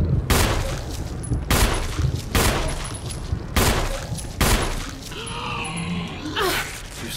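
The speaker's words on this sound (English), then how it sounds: "How many bullets does this take to kill him?" Gunfire in the Resident Evil video game: a series of loud, sharp shots in a steady rhythm about once a second, followed by a groaning creature sound near the end.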